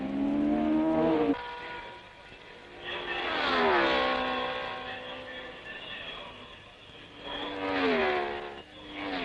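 Racing cars roar past one after another at the 1962 French Grand Prix, each engine note rising and falling as it approaches and recedes, with three main passes loud, mid-distance, and quieter gaps between.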